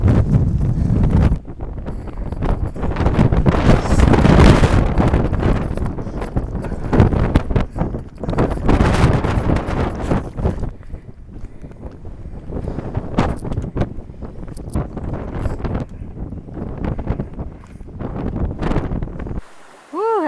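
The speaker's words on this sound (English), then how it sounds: "The wind is whooping through here." Strong wind roars in sustained gusts over the microphone on an Appalachian Trail section through the woods, loud and buffeting throughout, with brief breaks between blasts.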